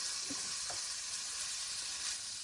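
Beef browning in a hot pan before going into a crockpot, a continuous, even sizzle with a couple of soft scrapes near the start.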